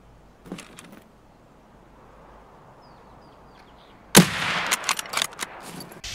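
Gunfire in Escape from Tarkov, with a single faint shot followed by quiet, then a loud close burst of several rapid shots with echoing tails.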